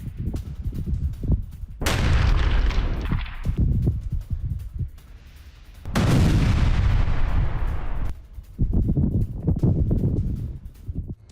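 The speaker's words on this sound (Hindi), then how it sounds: "यूक्रेनी हमले में जोरदार धमाके की ये तस्वीर" Two heavy, booming explosions from a drone attack in Zaporizhzhia, a few seconds apart, each a loud blast with a long rumbling tail, amid other distant thuds and bursts.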